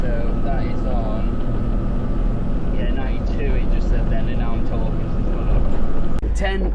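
Pinzgauer engine drone and road noise inside the cab while cruising in 4th gear, a steady loud rumble with a low engine hum throughout, with people talking over it.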